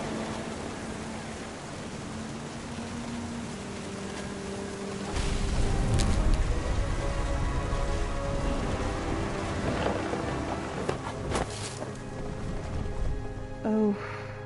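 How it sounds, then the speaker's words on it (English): Rain and thunder in the video game What Remains of Edith Finch: a steady wash of rain with a heavy rumble of close, powerful thunder swelling partway through and lingering. "Thunder sounded much too close and full of angry power"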